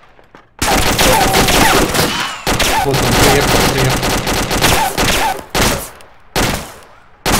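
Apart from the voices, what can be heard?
gunfire in a video game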